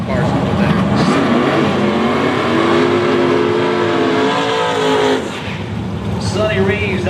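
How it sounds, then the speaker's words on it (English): Outlaw pro mod race cars roar loudly down a drag strip at an Arkansas event, a sustained near engine drone with rising revs that drops off after about five seconds, while someone talks over it. "Oh yeah, these cars are loud."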